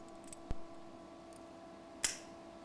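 Metal pieces are clamped together before spot and plug welding, with two sharp separate clicks of a clamp snapping tight, the second brighter, over a quiet steady background hum.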